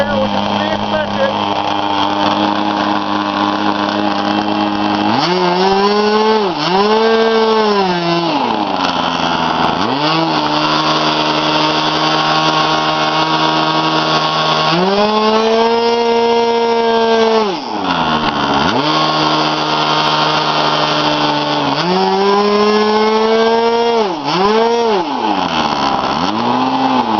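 A K&B 20 model engine runs loud and continuous, its high buzzing pitch rising and falling in repeated swells as the throttle opens and closes, with some speech under it.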